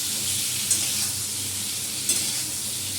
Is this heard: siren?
no